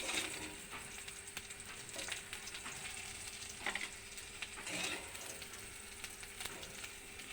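Black cumin seeds tempering in hot oil with fried okra, a crackling sizzle with frequent small pops and spits that swell and ease over several seconds, close and without voices.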